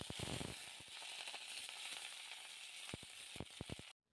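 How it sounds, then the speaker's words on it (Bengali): Washed onion stalks frying in hot oil, giving a continuous bright hissing sizzle with scattered pops and clicks that stops abruptly near the end. "তেলটা গরম হয়ে গিয়েছে, এর মধ্যে ধুয়ে রাখা পেঁয়াজ কলিগুলো আমি নিয়ে নিলাম।"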